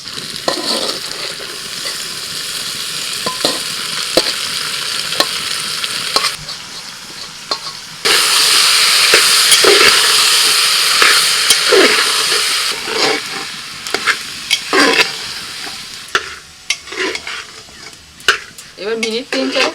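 Soaked peas tipped into frying potatoes and onion for masala ghugni hiss and sizzle loudly in the pan, with repeated stirring and scraping strokes and a louder burst of frying midway, without speech.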